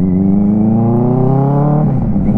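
A Benelli 600i motorcycle on an evening ride revs up, its close, loud engine note climbing steadily in pitch, then dropping and roughening near the end.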